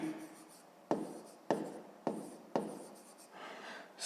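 Pen writing on paper while working a fifth-grade math exercise, with repeated scratchy strokes that start in sharp bursts roughly every half second, close and fairly quiet, with no talking over them.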